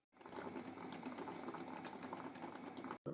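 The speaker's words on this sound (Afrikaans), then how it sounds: "Ons steriliseer hulle nou gou hier in die pot. Ons kook hulle nou." A pot of water boils hard for sterilizing about two dozen small bottles, a steady dense bubbling roar that runs unbroken for about three seconds before a brief cutoff near the end.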